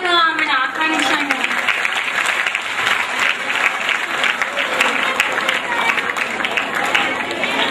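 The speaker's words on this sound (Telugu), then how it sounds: "చప్పట్లతో ఆమెను ఆహ్వానించాము" An audience at a staged devotional drama performance bursts into loud, sustained applause that continues evenly for several seconds, with a voice talking faintly at the start.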